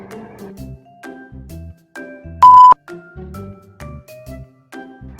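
A single loud electronic beep cuts in mid-clip, a short steady tone amid soft musical chimes and tones before and after.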